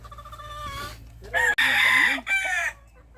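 A rooster crows loudly nearby on a mountain chicken farm, a long strained call, after some softer clucking and background noise.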